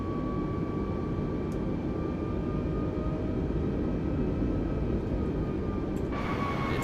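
A steady, droning airliner engine hum in Microsoft Flight Simulator 2020 holds constant while taxiing, loud and unbroken, with a faint whine running through it and no talk.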